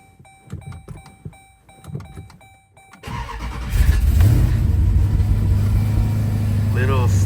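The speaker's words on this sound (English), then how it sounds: "Let's fire this baby up." A cammed Jeep SRT8 cranks briefly, catches and fires into a rough, loud idle, with faint clicks and voices before the start and a choppy rumble after it catches.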